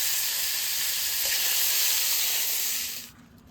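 Sliced ash gourd dropped into hot oil in a pan sets off a loud, dense sizzle that holds steadily for about three seconds before cutting off sharply, with no talking over it.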